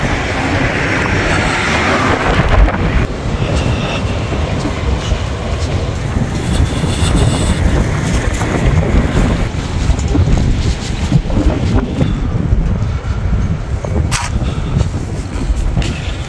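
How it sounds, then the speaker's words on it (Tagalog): Strong, cold wind buffets the microphone outdoors in Japan, making a loud, continuous roar with gusty surges for the whole stretch and no speech. "Malakas yung hangin tapos malamig."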